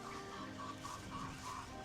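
Chickens cluck in a steady, repeated rhythm against a dense background of farmyard noise, fairly faint and continuous.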